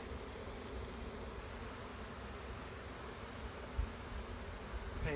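Honey bees buzz steadily during a hive installation, a faint, continuous droning swarm hum with no talk.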